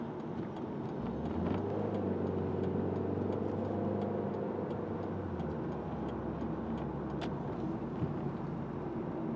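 Cars driving through traffic, a vehicle passing close by with a rising then fading engine tone over steady road noise and scattered ticks.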